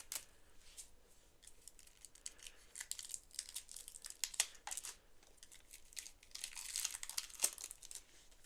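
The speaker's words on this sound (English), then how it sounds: "Last thing to open up is the cards." Crinkly plastic wrapping is torn and peeled off a deck of cards from a cheap knockoff Catan board game, close-up rustling and crackling in irregular bursts that grow busier toward the end.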